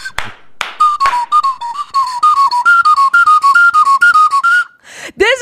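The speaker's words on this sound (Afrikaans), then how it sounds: "En daai is op 'n kinderfluit." A quick, lively melody played on a cheap children's whistle flute, clear and close, with fast runs of bright piping notes and short breathy gaps, ending in a rising slide.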